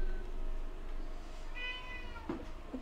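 A cat meows once or twice, faint and drawn out, over a steady background hum with no talk.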